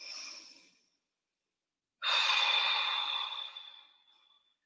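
Slow breathing during a neck stretch: a soft exhale trailing off, a pause of silence, then a fuller, louder breath in that fades, close and alone.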